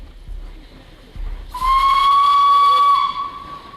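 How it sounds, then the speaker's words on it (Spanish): A Sharp Stewart 2-2-0T tank locomotive, built in Manchester and over 120 years old, running at an open-air museum, gives a low rumble and then one steady, loud steam whistle blast with hiss for about a second and a half. "Esta es una vieja Tanque Sharp Stewart 220T American, construida en Manchester con más de 120 años ya a sus espaldas"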